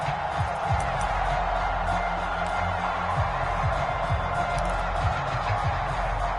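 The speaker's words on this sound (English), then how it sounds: "this crowd loves it as their guys hold on the opening drive" Crowd roar in an American football video game featuring the Raiders and Broncos, a steady wash of cheering with faint whoops over a low rumbling bed, continuous and fairly loud.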